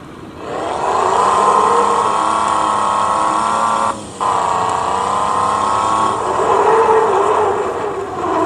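A car engine in Truck Simulator Ultimate hums loudly and steadily as it accelerates, a sustained drone that briefly cuts out near the middle before resuming and swelling again, with no voices.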